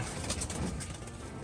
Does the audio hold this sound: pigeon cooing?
yes